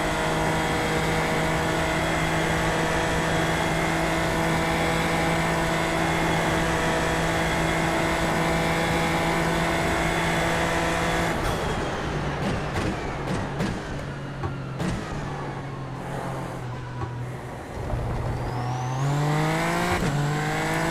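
Race cars driving flat out at the Spa circuit, a loud sustained engine drone with harmonic whine, then shifting pitch and overlapping revs as several cars run nose to tail, with gear changes and a rising climb near the end.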